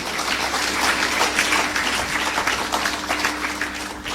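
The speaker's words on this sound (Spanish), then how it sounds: "¿Alguien le da un aplauso a Dios por lo que hace por nosotros?" A church congregation breaks into loud, sustained applause, a thick, even roar of clapping throughout with a low steady hum beneath it.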